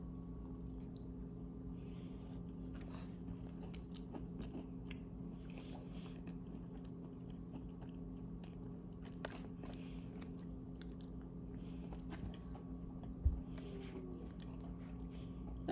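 Someone biting and chewing a French toast Crumbl cookie that is hard as a rock, faint close crunching and mouth sounds over quiet room noise, with one sharp louder bite near the end.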